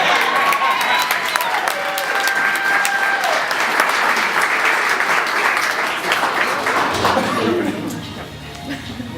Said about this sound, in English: so if we can clap again